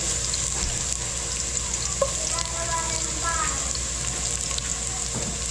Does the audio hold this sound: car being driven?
no